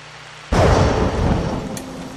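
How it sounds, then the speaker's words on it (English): Thunder in a night hunting video game: a sudden loud crack that swells into a long, deep rumble and lingers, heard alone with no talking. "That was thunder."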